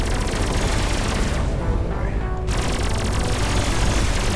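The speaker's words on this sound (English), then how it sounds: "Cannon spun up here." Spaceship cannon fire in the space combat game Everspace 2: a loud, dense, continuous barrage of rapid shots, its bright edge briefly dulling midway before resuming at full intensity.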